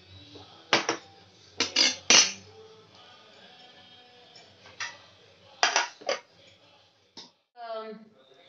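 Metal clinks and clanks as a lid goes onto a kadhai and the pan is handled on the stove, a string of sharp separate knocks with quiet gaps between, close by and loud.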